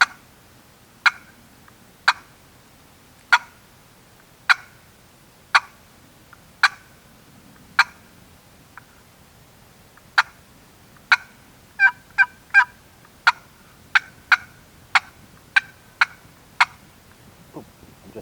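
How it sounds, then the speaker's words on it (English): A wooden turkey box call played by hand, giving a series of about twenty sharp, evenly spaced clucks and yelps, with a faster run near the middle, close and clear over a quiet background. "That's about the pressure that I'm putting on a box call."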